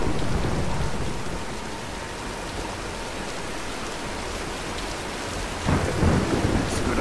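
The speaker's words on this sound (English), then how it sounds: "Nah, let's wait out the storm!" Heavy rain and rumbling thunder in a Tomb Raider game scene, a loud, steady roar of downpour with a swell of thunder toward the end and no voices over it.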